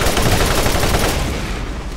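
Rapid, dense gunfire from the video game Borderlands rattles continuously and loudly, shots overlapping into a sustained barrage that eases slightly toward the end, with no speech.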